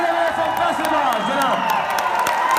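Mushaira audience cheering, clapping and whooping as poet Ali Zaryoun is welcomed, a dense continuous crowd roar with scattered sharp claps and shouts throughout.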